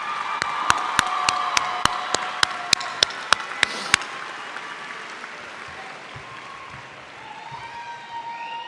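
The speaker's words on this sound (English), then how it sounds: "Graduates, let's give our families and friends who are here a big round of applause." Audience applause at a Collin College commencement ceremony in December, a dense clapping crowd with a few sharp, regular claps near the front in the first four seconds, then a steady wash of hand-claps slowly thinning.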